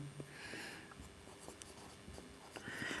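Chalk or marker strokes writing the word Defense on a board in a chemistry classroom, soft scratchy scrapes and taps, faint against low room noise.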